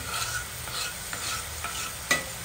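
Chopped tomatoes are stirred into onions frying in oil, giving a soft sizzle under light scraping strokes of a spoon in the pan, with one sharper clink near the end.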